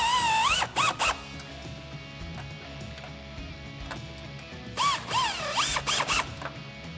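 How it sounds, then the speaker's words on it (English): A 10mm socket on a ratchet tightens pinch weld bolts while side step bars are fitted to a Jeep Wrangler JL 4-door, producing two close bursts of quick, rasping clicks with quiet handling noise between them. "So we're gonna use a 10mm on a ratchet, and we're gonna go ahead and tighten up those two pinch weld bolts."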